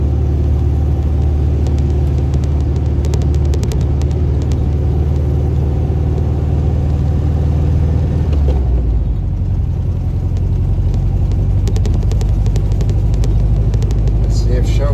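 Old car rolling along in first gear, a loud, steady close engine rumble and drone that drops in pitch briefly midway before settling back, continuous throughout.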